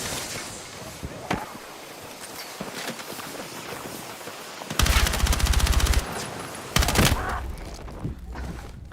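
Rapid bursts of gunfire from a video game shooter, with dense, loud volleys around the middle and near the end over a busy mix of game noise and footsteps.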